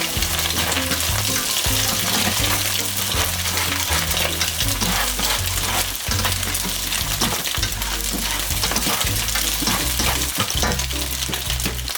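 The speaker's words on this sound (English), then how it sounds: "It's popping. Next comes the shallots." Shallots fry in popping garlic oil over medium heat for fried rice, making a loud, dense sizzle with constant stirring scrapes and crackles that carry on unbroken.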